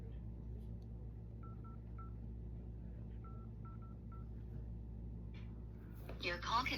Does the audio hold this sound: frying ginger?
no